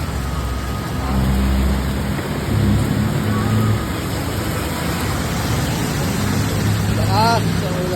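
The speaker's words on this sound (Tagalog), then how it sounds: "Lakas sa ulan." Steady heavy rain hisses throughout, with low rumbling and muffled voices talking underneath.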